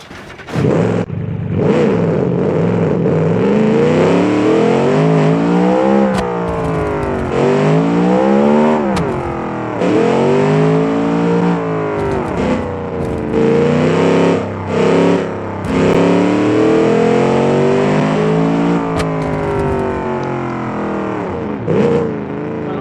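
Drag-motor car engine in BeamNG revving hard toward 9,500 RPM, a loud, distorted, continuous roar with repeated rising and falling pitch sweeps as the revs climb and drop throughout, no voices.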